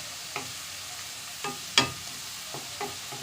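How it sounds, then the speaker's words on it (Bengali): Onions sautéing in a pan for Katla fish curry (macher kalia), a quiet steady sizzle broken by a few sharp spatula scrapes and stirs, close by with no talking. "পেঁয়াজটাকে ভালো করে কষিয়ে নিতে হবে"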